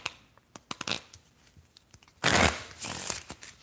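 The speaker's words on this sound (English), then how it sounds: "That's kind of approximating my Paul Weatherby ruffle shuffle." Playing cards are riffled in a ruffle shuffle: scattered light taps and flicks, then a dense, loud buzzing burst of cards interleaving, with a shorter second flurry close by.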